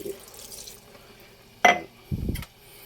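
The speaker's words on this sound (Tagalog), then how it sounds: "Lagyan lang ng konting sabaw kasi naubusan ng sabaw" A little broth poured into a pot of vegetable stew: a short splashing pour followed by a second brief, lower splash of liquid, close by in an otherwise quiet kitchen.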